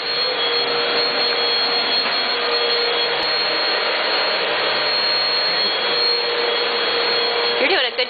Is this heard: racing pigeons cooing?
no